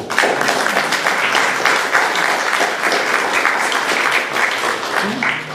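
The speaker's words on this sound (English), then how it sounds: "Let's have a clap for the Blue." A loud, sustained round of applause from a sizable crowd fills the whole stretch, dense and continuous without letting up.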